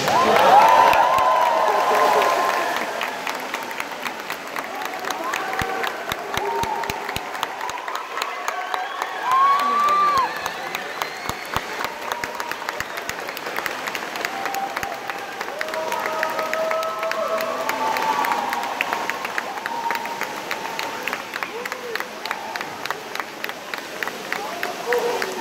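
Applause and cheering from a crowd of families in the stands right after sixth-grade graduates toss their caps at a Saint Clare school graduation, a steady wash of clapping with scattered shouts and whistles lasting throughout.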